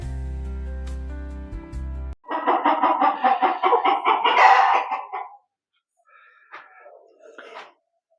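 Close Colombian country chickens cluck in a rapid, rhythmic burst after a brief stretch of music, followed by quieter scattered clucks and a short pause.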